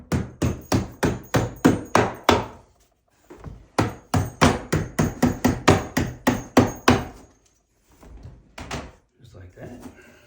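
A hammer taps the small side tabs of an IKEA desk, giving close, sharp knocks in quick runs of steady blows, then pausing before lighter, more scattered taps toward the end.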